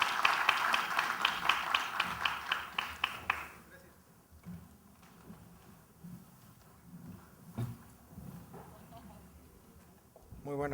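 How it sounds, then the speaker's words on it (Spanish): Audience applause at a Data Protection Day commemoration ceremony, a burst of many hands clapping for about three and a half seconds before fading into quieter room noise. "Por favor, un aplauso."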